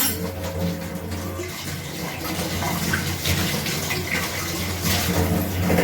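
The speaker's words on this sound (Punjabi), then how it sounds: "ਹੁਣ ਮੈਂ ਆਪਣਾ ਬਰਤਨ ਸਾਫ਼ ਕਰ ਰਹੀ ਹਾਂ" Dishes being washed under a running kitchen tap, with a steady, continuous rush of water splashing close by and no talking.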